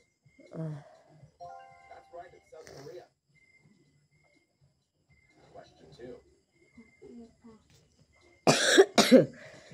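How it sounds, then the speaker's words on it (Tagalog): A person speaks quietly in short bursts, then near the end breaks into two loud, harsh coughs close by. "Hindi na matigas yung ubo ko."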